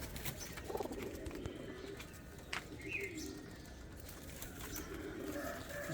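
Pigeon chicks and adult pigeons in a loft give soft, low cooing calls at a moderate distance, with a few faint chirps and some background noise.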